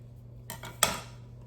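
A few light metallic clinks and a sharper clank as a pot holding rye bread dough is set down on a counter, close and brief against a faint hum.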